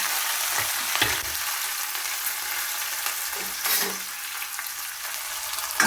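Mustard seeds, fennel, cumin, curry leaves, onion and garlic sauté in a pan with a loud, continuous sizzle, broken by a few scraping stirs of a spoon, close up and without talk.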